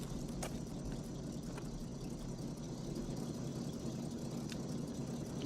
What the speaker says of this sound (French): Il a son chauffeur et sa voiture particulière.